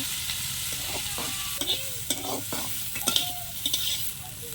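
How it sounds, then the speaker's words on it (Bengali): Bitter gourd and potato pieces fry with chili and turmeric powder in a pan, a soft sizzle beneath repeated scraping stirs of a spatula that come in irregular bursts close by. "উচ্ছেটা ভালোভাবে নাড়াচাড়া করে ভেজে নেব"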